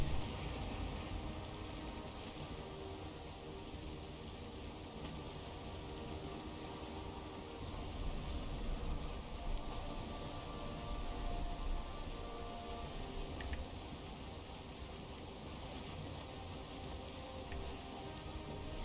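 Steady, faint rain falls at sea during a sailing trip in Valheim, a continuous hiss with soft patter and no voices over it.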